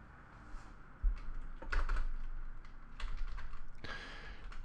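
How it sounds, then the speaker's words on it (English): Someone types on a computer keyboard in quick clustered bursts of light key clicks, close and fairly quiet, with short pauses between runs. "it's because I suck at typing"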